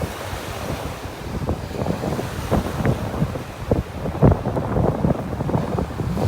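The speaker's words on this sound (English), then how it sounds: "Ooh, it is windy." Gusty wind buffets the microphone on a beach in North Naples, Florida, with surf rumbling steadily underneath and no voices.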